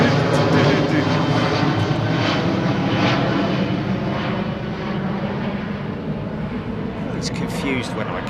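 A Boeing 737 departing Heathrow gives off a loud, close jet roar that starts strong and slowly fades as it climbs away, with people chatting over it.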